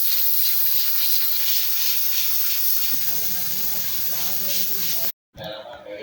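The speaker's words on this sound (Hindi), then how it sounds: "हम इसे कवर करेंगे, मीन्स प्रेशर पे लगाएंगे तकरीबन 10 मिनट के लिए" A pressure cooker hisses steam while goat intestine cooks inside, a loud, steady, close jet of hissing that runs unbroken, with a low hum joining partway, before a sudden cut and a brief return of hiss.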